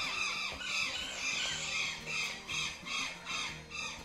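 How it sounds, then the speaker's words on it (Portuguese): Birds calling in a bird park in Foz do Iguaçu, repeated shrill squawking calls in a steady rhythm about every half second, moderately distant, with no talking. "pra quem gosta de cantos passarinhos"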